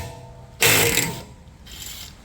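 Ratchet driving a 6mm Allen socket on a BMW 7 Series 750Li front brake bolt: a sharp loud clicking burst of pawl ticks, then a fainter second run of clicks, close up.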